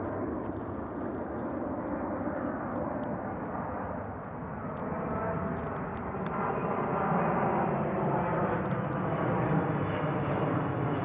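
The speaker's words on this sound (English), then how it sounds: "There's another airplane Bubba coming this way" An airplane passing overhead outdoors in snow, a steady broad engine roar that holds loud and continuous throughout, building slightly toward the end.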